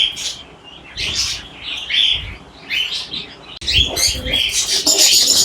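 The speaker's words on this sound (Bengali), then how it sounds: "অনেক কালার, অনেক জাতের কবুতর" Many pigeons of different breeds and colours at the Mirpur bird market chirp and call in a busy overlapping chorus, close and lively, with occasional low coos and wing flutters beneath.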